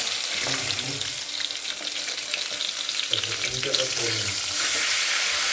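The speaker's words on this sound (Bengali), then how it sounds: "ততক্ষণ মাছটাও আমার ভাজা হয়ে যাচ্ছে" Tangra fish fry in a pan with a continuous crackling sizzle, close and busy, with brief clinks and watery splashes surfacing now and then.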